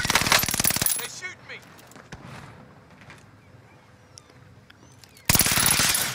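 Shooter video game gunfire in an ambush, two loud rapid automatic bursts at the start and end with quieter scattered sounds between, no talking.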